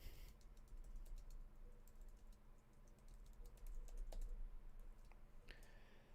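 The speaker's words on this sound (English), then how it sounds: "typing my goodbye message." Fingers type on a computer keyboard during a gaming session. Steady, irregular key clicks run throughout, quiet and close, over a low background hum, with no speech.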